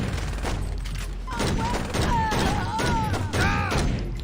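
Rapid video game gunfire in a stronghold match, a burst of loud shots and thumps packed into a few seconds, with voices calling out over the fire.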